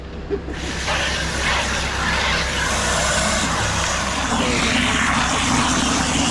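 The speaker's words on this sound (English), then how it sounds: "Luckily the pump's loud enough you can't hear them." A concrete pump primes on a job site, its engine roaring loudly and continuously at close range, a dense mechanical drone with no breaks.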